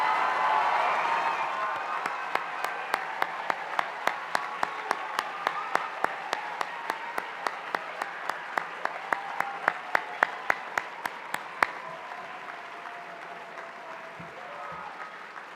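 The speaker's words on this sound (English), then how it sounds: "please stand and let's give them a round of applause" An award-night audience applauds teachers with sustained, dense clapping and crowd noise, sharp individual claps standing out in a steady rhythm before the ovation thins and fades out near the end.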